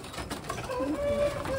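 Tumbler pigeons in a coop coo and murmur in short, close tonal warbles over a busy low background, with a voice talking nearby.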